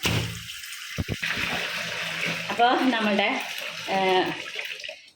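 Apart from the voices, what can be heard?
rinsing and washing an old bag in water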